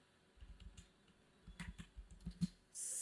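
Quick, light keystrokes on a computer keyboard come in short bursts of close clicks and taps, with a few pauses, in a quiet room.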